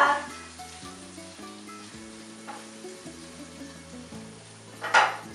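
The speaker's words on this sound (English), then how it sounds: "we're going to put it in the pan and let it brown up a little bit" Food browns in a hot frying pan with a continuous close sizzle and occasional stirring over light background music. A brief louder spatter comes near the end.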